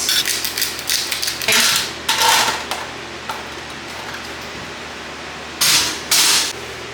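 A knife chops nopal cactus on a cutting board in quick clustered strikes, pausing between bursts, close and crisp.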